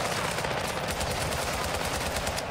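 Sustained automatic gunfire in the shooter game Call of Duty Modern Warfare II, a dense rapid burst of shots filling the whole moment, loud and continuous.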